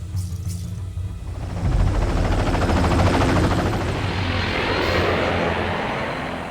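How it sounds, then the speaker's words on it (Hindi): Military aircraft passing overhead during an air force practice session, a broad continuous engine roar that swells after the first couple of seconds and stays loud and steady, mixing jet rumble with a helicopter-like throb. "एयरफोर्स हेलीकॉप्टर्स और प्लेन्स उड़ रहे हैं"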